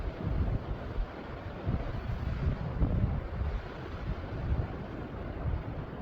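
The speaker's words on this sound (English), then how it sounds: "Hear the water washing up on the rocks there." Continuous rumbling wash of choppy sea water surging against rocks on the Newfoundland coast, with low gusty wind buffeting the microphone throughout and no voices.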